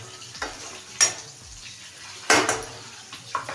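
Onions fry in a pan with a soft steady sizzle, broken by a few louder scraping and clanking stirs of a utensil against the pan.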